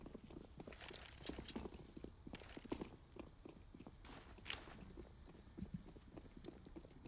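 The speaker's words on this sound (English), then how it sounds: "He knows it's likely this B hit with all these footsteps coming in." Rapid, overlapping footsteps in CS:GO on the Overpass map as several players rush toward a bomb site, a faint, busy patter of quick steps with a few louder knocks.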